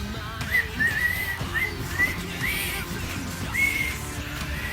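A person whistles a few short, wavering high notes in separate phrases over a steady, muffled background hum.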